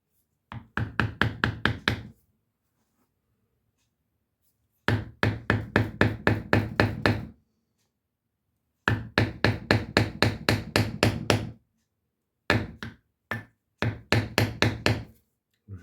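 Sharp, rapid hammer taps on a leather tooling stamp come in quick bursts of about a dozen blows, separated by short pauses, close and crisp.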